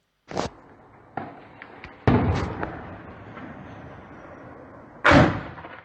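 Heavy gunfire: several sharp, loud bangs ring out at irregular intervals late at night, echoing outdoors in Ceylanpınar, Şanlıurfa, Turkey, with quieter distant pops between them.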